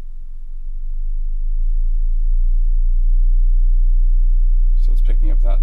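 A low-frequency sine sweep plays through a KRK V8 Series 4 studio monitor, a steady rising tone held for several seconds. Speech breaks in near the end.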